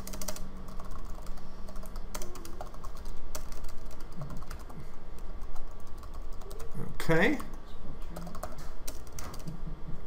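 Someone types steadily on a computer keyboard while writing an email during a beginners' class at a library. The fast key clicks are close and keep going, with a brief spoken word near the end.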